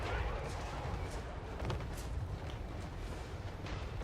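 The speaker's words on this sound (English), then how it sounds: "Cannons are splitting up shots." Cannons firing in a fantasy faction battle video game, a dense continuous rumble of overlapping booms and blasts with sharper cracks poking through, under a speaking voice.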